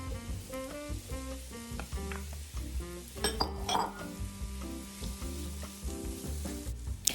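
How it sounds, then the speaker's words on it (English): Onions fry in hot olive oil, sizzling steadily in a pan under a repeating musical backing, with occasional clinks of utensils against the cookware. "Once it sizzles, you're ready to add all of your onion."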